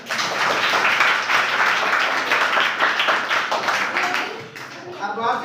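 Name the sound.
applause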